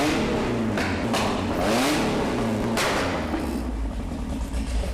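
A classic Ford Mexico engine with twin Weber carburettors cranks and catches close by in a garage. It then gives a few rising revs and settles into a rough, loud idle.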